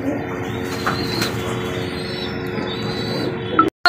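Boltinet pigeons coo softly and steadily at an exhibition, with a brief flutter of wings near the end and a continuous low murmur of birds throughout.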